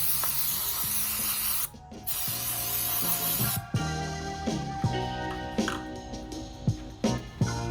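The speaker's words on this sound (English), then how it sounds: "I am gonna hit this guy with just a little bit of electrical cleaner" Electrical contact cleaner sprayed onto a Volvo V70 part in steady loud hissing bursts, two long sprays broken by a brief pause, then short clicks and clatter from handling the part.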